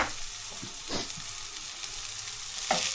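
Chili powder, coriander and garam masala fry in hot oil in a pan, a steady close sizzle with a few stirring scrapes breaking through.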